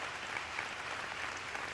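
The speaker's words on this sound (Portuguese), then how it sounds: "Vamos dar uma salva de palmas ao Pai." A church congregation applauding during a sermon, a faint, distant wash of dense clapping held at a steady level with no voices over it.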